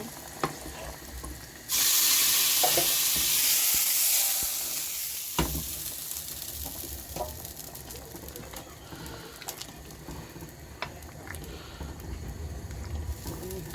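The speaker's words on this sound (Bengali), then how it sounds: "এই তো এখানে পেঁয়াজ আর রসুনটা বাদামি কালার করে ভেজে নিচ্ছি" Onion and garlic fry in hot oil in a pan, a loud sizzle bursting in and then settling to a softer crackle with scattered clinks and stirring noises.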